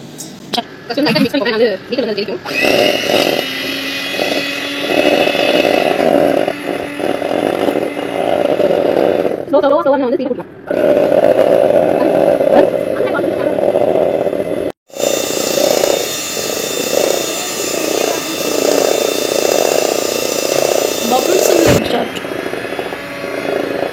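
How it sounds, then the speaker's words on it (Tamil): Electric beater whipping cold milk cream into stiff whipped cream, a steady loud motorized whir running through most of the stretch with brief pauses between bursts, voices talking over it. "அதுக்கப்புறம் வந்து பீட்டர் வச்சு நம்ம இப்போ பீட் பண்ண போகிறோம்."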